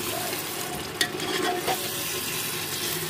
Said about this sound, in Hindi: अब इसे मसाले को भूंज लेंगे।